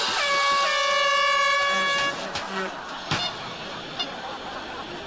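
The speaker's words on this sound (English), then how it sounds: "And Raj, don't go easy on that air horn" A loud, sustained air horn blares for about two seconds, then cuts off, leaving background chatter and a few clattering noises.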